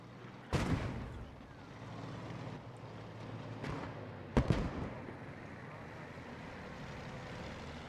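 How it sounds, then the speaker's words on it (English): A Panther tank cannon fires in the World War II video game Post Scriptum, giving two sharp, booming shots a few seconds apart over a steady rumble of battlefield noise. "And you can see the Panther fire going down, landing right in front of that MG."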